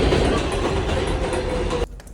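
A subway train rumbles loudly through a station, with a dense steady roar and rattling clatter that cuts off sharply near the end.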